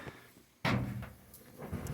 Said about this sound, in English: The door barely opens.